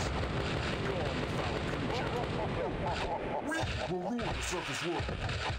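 Gunfire rattles from the video game Dark Angel: Vampire Apocalypse, a dense continuous barrage of shots and blasts filling the whole stretch loudly, mixed with game effects and a voice speaking over it.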